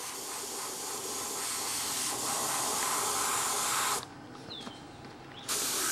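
Continuous close hiss of an airbrush or spray gun laying clear coat onto a model airplane (a U-control fun fly plane), steady and loud for about four seconds, then dropping off briefly before resuming.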